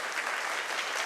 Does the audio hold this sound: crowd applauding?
yes